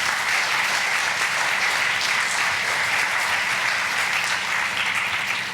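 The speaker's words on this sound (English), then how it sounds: "Let's give another round of applause for that film." Audience applause after a film screening and director Q&A at the Center for Jewish History: dense, steady clapping from a crowd that holds at full strength for several seconds.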